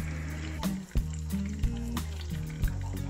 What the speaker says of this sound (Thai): ปล่อยทอดไปเรื่อยๆก่อนนะครับ